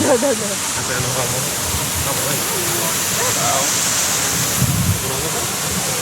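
A waterfall at La Cumbrecita in Argentina roars as a steady, dense wash of rushing water close by, with people talking over it throughout.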